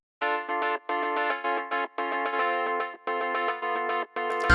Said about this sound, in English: I'm going to solo the electric piano so you can hear what it's cutting.